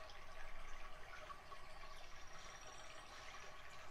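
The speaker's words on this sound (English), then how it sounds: "Hear the water and the birds." Water flows and trickles steadily, with a continuous bright rushing texture and no voices.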